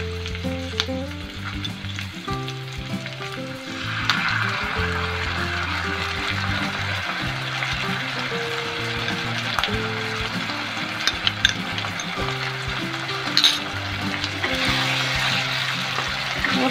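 Chilli chicken fries over a high flame as sauce goes in, giving a loud, continuous sizzle with scraping stirs and occasional clanks of a spatula against the pan.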